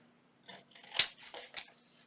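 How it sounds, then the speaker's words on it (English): Scissors trim around a paper tag for a junk journal, making a few quick, close snips, the sharpest one in the middle. "Now I am going to go ahead and trim this around"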